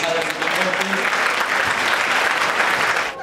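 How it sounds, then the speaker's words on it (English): Crowd at a Montreal evening event applauds one another, a short dense wash of clapping at steady loudness with faint voices underneath. "I want everyone to give a round of applause to each other for being here"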